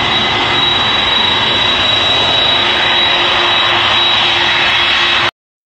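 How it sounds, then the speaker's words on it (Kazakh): A cartoon airplane drones steadily and loudly with a continuous engine roar for about five seconds, then cuts off abruptly, with no voices. "Бұл ұшақ. Ұшақ көлік сақты жерде жүрмейді, аспанда ұшып жүреді."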